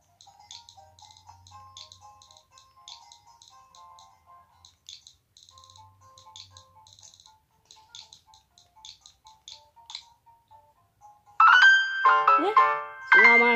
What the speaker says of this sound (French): C'est normal, c'est une notification.